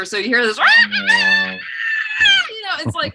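A voice imitates a rooster crow like the one a stadium loudspeaker plays after a touchdown, with a loud, strained cock-a-doodle-doo rising and wavering, then brief talk.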